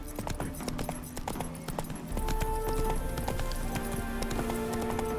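Roach, the horse in The Witcher 3 video game, gallops with rapid rhythmic clip-clop hoofbeats, moderately loud and continuous, with a faint game soundtrack beneath.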